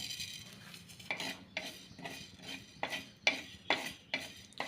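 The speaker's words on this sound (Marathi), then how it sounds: "आता आपण धने भाजून घेऊया" Coriander seeds dry-roasting in a pan for stuffed bitter gourd masala, stirred in about eight rhythmic scraping strokes with rattling seeds, close and fairly quiet, no voices.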